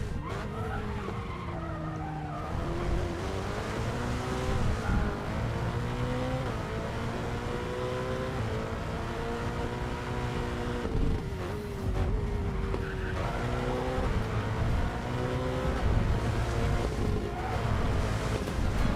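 A Ferrari F8 supercar lapping the Nordschleife in the Racing Master racing game, its engine note rising and falling through gear changes with constant tyre squeal and wind rush, loud and continuous without speech.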